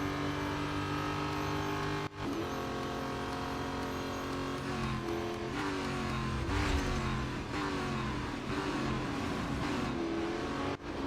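Racing car engines in the Real Racing 3 mobile game, a loud continuous whine that rises and falls through gear changes, with other cars close by and no talk.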